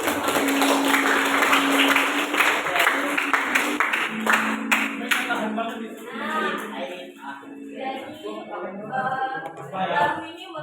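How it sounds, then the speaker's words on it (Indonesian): A group claps their hands together during a school session, with dense clapping at first that fades out as people start singing and talking. "Oke, tepuk tangan buat kita semua."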